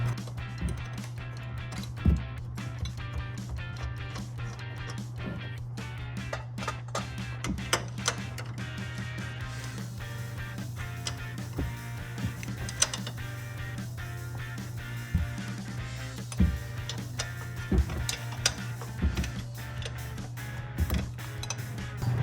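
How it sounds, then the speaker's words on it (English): Three 18mm bolts are worked loose from the shock assembly of a 2007-2016 Chevrolet Silverado 1500 during an upper control arm swap, heard as close, repeated ratcheting clicks and metallic creaks over a steady low hum. "We're going to start removing these 3 bolts."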